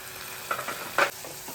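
Sesame seeds and peanut powder get stirred into chilli potatoes frying in a pan for a fasting-day dish, giving a soft steady sizzle with a few faint scraping stirs and a brief clink, quiet overall.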